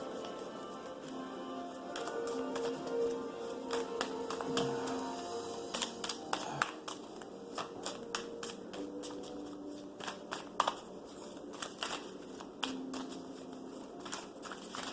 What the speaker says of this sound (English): I'm going to shuffle these cards back in.